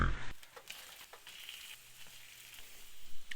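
Five slices of bologna fry in a pan with a quiet, steady sizzle and a few faint crackles and pops.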